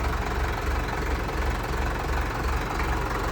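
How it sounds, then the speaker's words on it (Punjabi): A new Indofarm 3055 tractor engine idles steadily with a low, rumbling chug and slight knocking, constant and fairly loud throughout, with no voices. "ਆਵਾਜ਼ ਸੁਣੋ ਟਰੈਕਟਰ ਦੀ ਕਿੰਨੀ ਘੈਂਟ ਆ"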